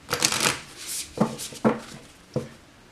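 Tarot cards are shuffled close up: a few seconds of soft riffling and rubbing, then several separate crisp slaps and taps of the deck, with no talking.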